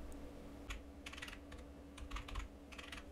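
Soft clicks of typing on a computer keyboard come in short clusters of keystrokes with brief pauses, faint and close against a low background hum.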